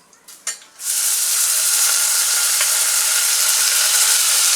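Sprouted moth beans hit a hot pan with turmeric and burst into a loud, steady sizzle that holds for several seconds after a few brief stirring knocks at the start.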